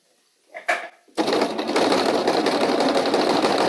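A sewing machine stitches an invisible zipper, starting after a couple of brief handling clicks and then running steadily and loudly at close range with a continuous rapid whirring rhythm.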